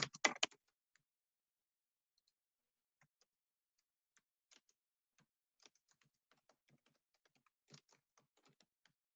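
Light, sparse keystrokes on a computer keyboard as a name is typed, soft isolated clicks spread unevenly after a brief louder burst of taps at the start, otherwise quiet.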